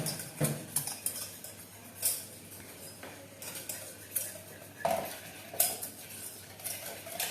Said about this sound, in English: The stirring should be continuous to avoid any kind of the eggs should not get curdled.